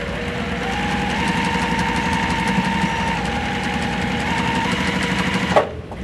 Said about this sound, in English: Now you can put it back and sew down the entire edge.